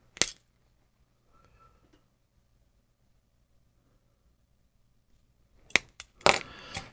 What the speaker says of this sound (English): I'm going to kind of cut everything back to the length of the white wire.